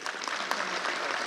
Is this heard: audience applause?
yes